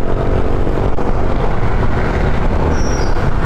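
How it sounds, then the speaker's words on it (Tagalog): A Sniper 155 motorcycle engine revs with a steady, loud roar that drones on throughout, a dense low rumble with no pauses and no voices. "Lakas ng makina niya."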